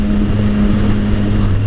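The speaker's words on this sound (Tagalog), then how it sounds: "Sobrang lakas ng tambutso." A Triumph Sport 660 motorcycle fitted with a loud Orion exhaust runs in the early morning, giving a steady, heavy, close-up engine drone with a deep throbbing tone and no talking.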